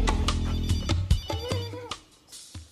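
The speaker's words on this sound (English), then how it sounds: "I just got someone ringing my phone, just not saying nothing." A mobile phone ringtone plays in a salon, a tonal ringing pattern of repeated notes for a few seconds, fairly loud and close with knocks and background noise.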